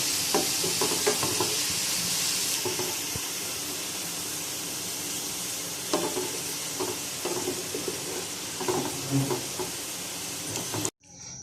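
Golden fried onions lifted out of hot oil for a degi mutton korma, a loud continuous sizzle and hiss with scattered clinks and stirring knocks of a utensil, ending abruptly.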